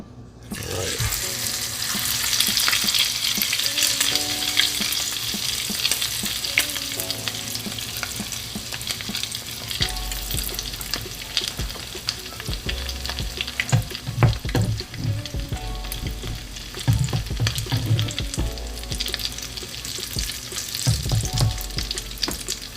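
Meat sizzles steadily in a hot pan, with scraping and stirring sounds over the constant crackle, no talking.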